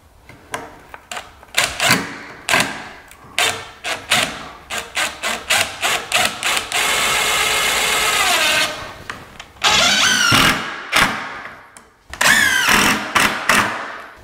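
A power driver sends screws into wall framing during drywall prep, whirring in repeated short bursts followed by longer sustained runs, loud and close with no talking.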